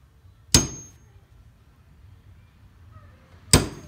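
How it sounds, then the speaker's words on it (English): Center punch struck into wood while marking drill points for hooks on a wooden concealment box: two sharp, loud metallic taps about three seconds apart, with quiet in between. "Now I'll take a center punch"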